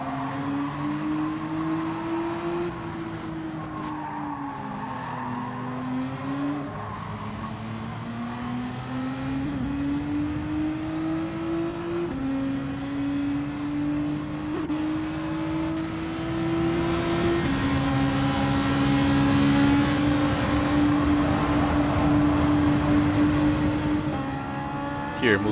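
Race cars in Gran Turismo 7, including a McLaren, roar around a track with a steady engine drone whose pitch rises and falls through shifts and corners, while someone commentates over the engine noise throughout.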